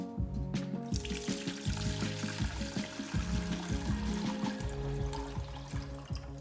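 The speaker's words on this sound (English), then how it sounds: "So now what I do is I pour it into the pitcher." Cashew milk poured from a container through a nut bag into a pitcher, a steady close splashing and trickling stream of liquid lasting throughout with no talk.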